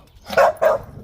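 A dog gives two quick, close barks in a row, with a faint background hum.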